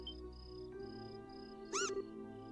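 A short cat meow from the video game Trails in the Sky, heard once near the end over steady game music with a faint high tone.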